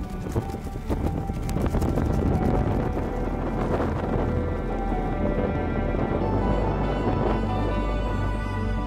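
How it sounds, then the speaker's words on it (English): Strong wind at the summit of Cadair Idris buffeting a tent and microphone, a loud, continuous roaring rumble with flapping gusts that never lets up. "this wind is absolutely nuts"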